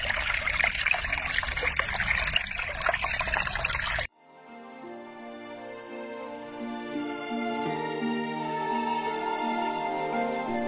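A small stream trickles and gushes steadily in a bamboo forest on Baiyun Mountain in Guangzhou, loud and close for about four seconds, then gives way abruptly to soft tonal music.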